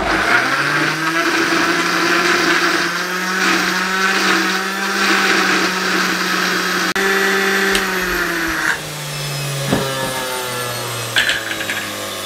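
Kitchen blender grinding apple, egg and sugar under a lid, a steady loud motor whir running continuously, its pitch dropping slightly and wobbling near the end as it winds down.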